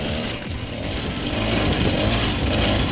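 A homemade gas-powered chopper motorcycle engine runs loud and close, a steady rough low chugging drone that holds without pause and carries no speech.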